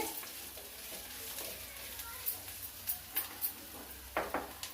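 Garlic, coconut and chili powder fry in a pan with a continuous soft sizzle, and light scraping stirs tick through it now and then near the end.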